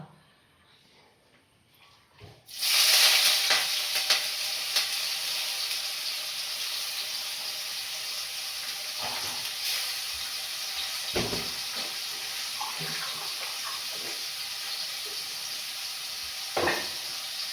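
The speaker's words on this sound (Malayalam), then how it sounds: "ഇതൊന്ന് നന്നായിട്ട് പൊരിയണം" Food dropped into hot oil in a heated pan for a Kerala-style curry bursts into loud, steady sizzling frying that continues, with occasional stirring clatter.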